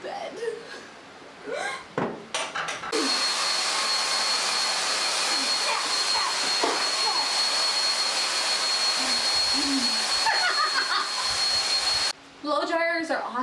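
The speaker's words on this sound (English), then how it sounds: "I'm gonna take my blow dryer and heat the bottom of my dish slowly" A steady, loud blow dryer whirs for about nine seconds with a thin high whine, heating the bottom of a dish, with brief voices and laughter before and after it.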